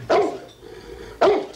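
A dog barks twice, about a second apart. Each bark is a sharp, mid-loud woof with a quieter gap between.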